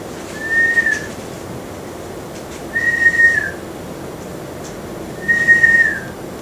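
A person whistles three short, level notes several seconds apart, close and clear over a soft background hiss.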